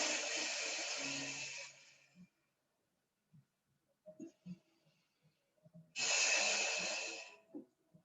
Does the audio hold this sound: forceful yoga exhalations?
yes